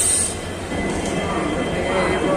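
A passenger train waits at Guwahati station before departure, giving a steady low rumble and hiss of a stationary train, with a brief high squeal at the start and a voice speaking over it.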